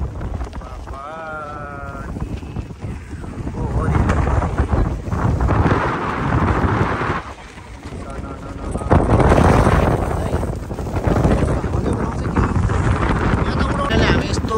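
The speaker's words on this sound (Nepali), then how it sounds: "एकदमै हावा चाहिँ भयङ्कर आइरहेछ" Very strong wind roars across a hilltop in Gunsi Bhadaure, Ramechhap, Nepal, buffeting the microphone with loud, continuous gusts that rise and fall for the whole stretch, with a voice faintly under it.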